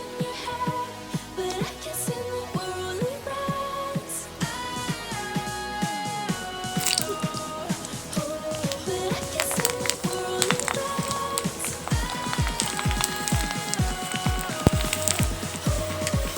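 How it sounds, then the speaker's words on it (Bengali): Fuchka puris fry in hot oil with a continuous crackling, bubbling sizzle, close and steady, dotted with sharp pops throughout. "এরকম করে সবগুলো একটা একটা করে ভেজে নেব।"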